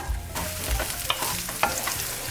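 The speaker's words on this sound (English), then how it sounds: "Oil to a pan. We're gonna add our onions." Chopped onions hit hot oil in a pan, a soft steady sizzle with a few stirring scrapes and clinks, close and fairly quiet.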